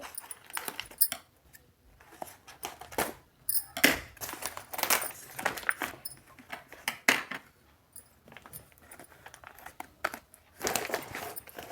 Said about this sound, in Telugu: చూడండి, కట్ చేస్తున్నాను.